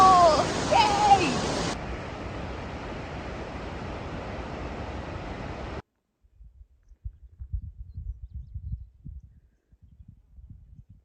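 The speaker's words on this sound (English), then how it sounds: "We're at the waterfall!" A waterfall along the Pacific Crest Trail gives a steady, broad rushing hiss after a brief excited voice at the start, then cuts off and leaves faint scattered rustling.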